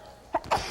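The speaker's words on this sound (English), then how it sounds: "I've never had a sneezing fit like this." Two quick sneezes break out in a home kitchen during a chicken pot pie cooking show, close and moderately loud, the second a little longer than the first.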